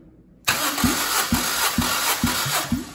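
A Suzuki M13A 1.3-litre engine cranks over with a starter motor during a first-cylinder compression test, a sudden whir followed by a steady rhythmic chugging of about six even compression beats, close and loud.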